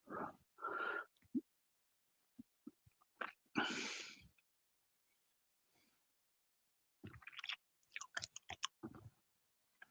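Puppies nearby breathe, snuffle and wheeze in irregular bursts of close, raspy snorting, separated by quiet gaps.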